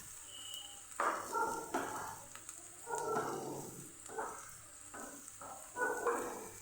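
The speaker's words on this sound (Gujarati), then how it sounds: "અહીંયા આપણી ડુંગળી એકદમ મસ્ત સતળાઈ ગઈ છે અને આપણું લસણ આદુની પેસ્ટ પણ સતળાઈ ગઈ" Onion with garlic-ginger paste sautés in a pan for dhaba-style paneer bhurji, a soft steady sizzle under repeated scraping stirs of a spoon, rhythmic and close, with no talking.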